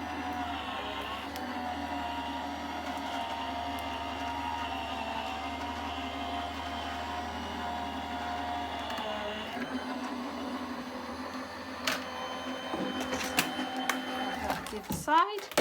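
A die cutting machine rolling cardstock and a clear plate through for a Santa card, a steady mechanical hum with rattling and clicks near the end while someone talks over it.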